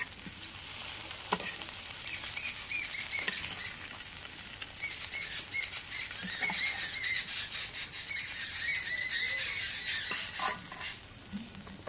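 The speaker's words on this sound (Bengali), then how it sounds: "এখন মাছ ভাজি দেওয়া গেছে" Sea poa fish frying in oil in a pan, a close, steady sizzle with crackling pops and occasional scraping stirs running throughout, with no talk.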